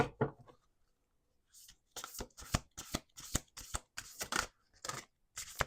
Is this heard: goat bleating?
no